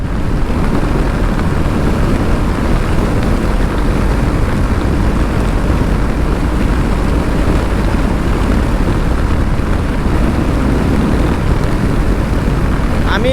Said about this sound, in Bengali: এখন রাস্তা ফাঁকা আছে দেখা যাক রয়্যাল এনফিল্ড ক্লাসিক থ্রি তিনশো পঞ্চাশ সিসি টপ স্পিড কত উঠে